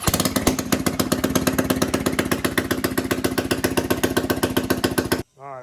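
A Honda Rancher ATV engine running without its exhaust, a loud, close, rapid popping chatter that stays steady for about five seconds and then cuts off abruptly.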